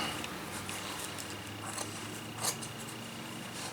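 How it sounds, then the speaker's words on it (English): Scissors trim leather rifle case material with a fleece lining near the zipper, giving a few quiet, soft snips over a faint, steady room hiss. "Last thing I'm going to do is just trim some of this"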